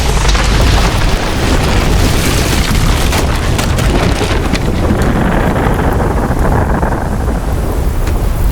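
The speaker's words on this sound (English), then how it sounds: "That's an explosion." A huge explosion in Metal Gear Solid Delta: Snake Eater, a loud sustained roaring blast with a deep rumble that fills everything before the upper hiss slowly thins out.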